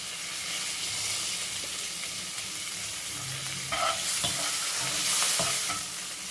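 Curry leaves, green chili and ginger fry in hot oil for a cabbage and potato curry, giving a steady broadband sizzle with a few scraping stirs and brief clinks toward the end, with no talk.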